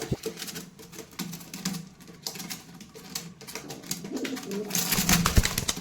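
Pigeons in a pigeon loft coo softly and repeatedly, low and steady, with scattered shuffling and light tapping noises nearby and a louder burst of rustling near the end.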